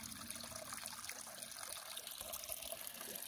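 Water trickles at a trail water source along the Appalachian Trail as a soft, continuous, fairly faint outdoor splashing with no speech.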